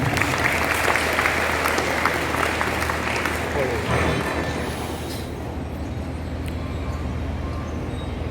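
An audience at a university speech applauds in a dense, loud burst of clapping that fades over the second half, with a low hum and some crowd noise underneath.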